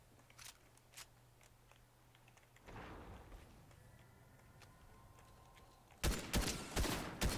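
Video game gunfire erupts in a sudden loud close burst of shots near the end, after quieter scattered cracks and rustling earlier.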